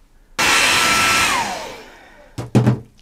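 Hair dryer switched on suddenly to dry a watercolour painting, a loud close rushing blast that eases off and fades over about two seconds, followed by brief handling knocks.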